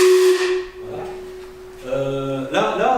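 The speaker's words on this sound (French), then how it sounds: "la deuxième machine, le sifflet est un peu plus enroué." A museum steam engine's second whistle sounds hoarse, a loud steady tone over hiss that fades, then returns as a rougher, raspier blast amid rushing steam.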